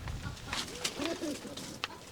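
Pigeons coo softly in a few low, rolling warbles, close by, over faint background noise.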